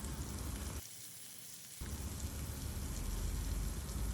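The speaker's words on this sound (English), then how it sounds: "we will now allow the fish to be seared in this garlic butter for a few seconds" Basa fish fillet searing in garlic butter with chili flakes in a pan, a loud, steady, close hiss and crackle that drops away briefly before surging back.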